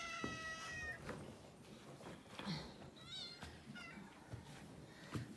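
Several cats meowing on a rural Turkish farm while being given milk, a string of short, rising and falling meows of varying pitch at close range, with some quiet background noise.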